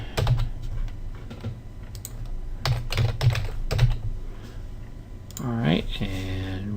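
A password being typed on a computer keyboard, quick irregular clusters of close key clicks with short pauses between them, followed by someone speaking at the end.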